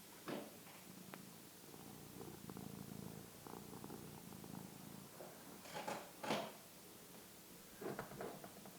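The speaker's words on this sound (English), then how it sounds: "Can you hear the purring?" A cat purrs softly and close by in a continuous rumbling rhythm, with a few brief rustling or shifting noises mixed in.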